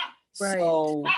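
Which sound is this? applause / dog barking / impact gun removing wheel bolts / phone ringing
dog barking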